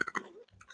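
Someone chews a crunchy Spanish snack up close, a few sharp crunching bites at the start giving way to softer mouth sounds, with no speech over it.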